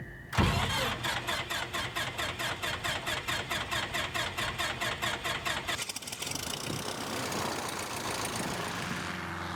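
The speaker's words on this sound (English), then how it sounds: "the engine starts up and it sounds just kind of like average" A small Super Cub plane engine sputters to life and runs with a fast, even chugging rhythm, then roars louder and rougher, close and steady throughout.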